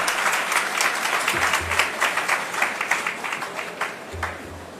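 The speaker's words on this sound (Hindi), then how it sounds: "पुनः एक बार तालियां बजा दीजिए उन सब के लिए जिन्हें आज लाभ मिला।" A crowd at a government benefits ceremony bursts into sustained applause, many hands clapping together with some rhythmic beats emerging, loud and steady for several seconds.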